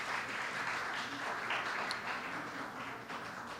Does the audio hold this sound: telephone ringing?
no